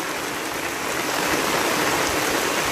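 Steady rain pours down over a green village near a temple in Talavade, a dense, even hiss throughout with no voices.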